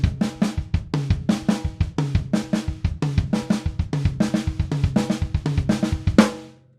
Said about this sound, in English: creating a paradiddle diddle kick drum exercise of the left